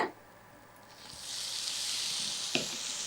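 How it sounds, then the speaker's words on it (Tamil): Lemon juice hits oats upma in a hot pan, setting off a steady sizzling hiss that swells after a quiet start and holds, with a small clink near the end. "இப்போ இதில் வந்து லாஸ்ட்டில் லெமன் ஜூஸ் சேர்த்துக்க போகிறேன்"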